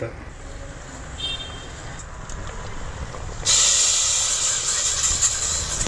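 Tadka tempering with asafoetida and garlic in hot oil, a loud sudden hiss that starts partway through and keeps sizzling steadily after a quieter stretch of background noise.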